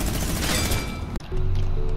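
Rapid burst of gunfire at the gun range in Fortnite, loud and dense for about a second, then cutting off to quieter game sounds.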